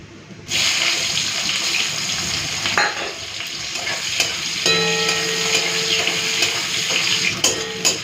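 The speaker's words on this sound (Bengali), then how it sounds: "পেঁয়াজটাকে হালকা ভেজে নিয়েছি" Chopped onion fries in oil seasoned with dried chilies and panch phoron, giving a steady close sizzle with occasional stirring scrapes and clinks of the spoon against the pan.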